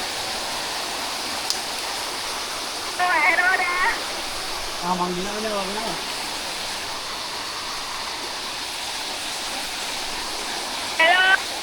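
A nearby waterfall roars in a steady, loud rush of water throughout, while people speak briefly over it.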